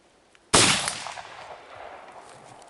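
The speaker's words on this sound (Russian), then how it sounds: "Так, поехали, значит, первый выстрел." A single sharp outdoor blast from an IZhK 32-gauge shotgun firing a Leningradka slug, loud and close, with a decaying tail in light rain.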